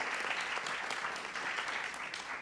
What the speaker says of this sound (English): And we're gonna do a round of applause.